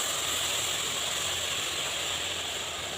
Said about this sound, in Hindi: अब इसमें डालूँगी ये मैं दूध।